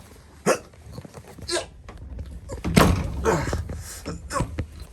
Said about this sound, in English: Oh my gosh, I have to wrestle with the doors!